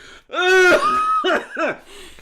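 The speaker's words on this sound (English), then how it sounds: "I'm coughing because I have an allergy." A person with an allergy coughing and clearing their throat in a few harsh, voiced bursts, close and fairly loud.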